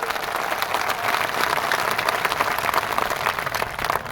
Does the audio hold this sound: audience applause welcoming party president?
yes